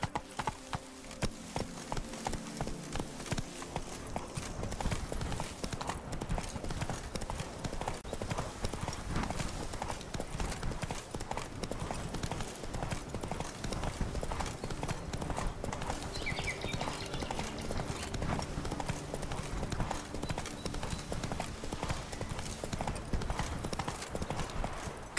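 Horse hooves gallop in The Witcher 3, a fast, continuous clip-clop rhythm held steady throughout at moderate, even loudness.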